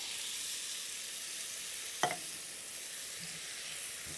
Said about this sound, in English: So, in goes the Rotel.